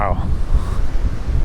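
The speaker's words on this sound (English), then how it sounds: "This is really strong winds now. Really, really strong winds." Very strong wind in Palmanova, Mallorca, roars and buffets against the microphone in a dense low rumble, with a brief tonal whine at the start.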